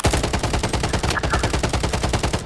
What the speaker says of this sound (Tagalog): May bumabaril na.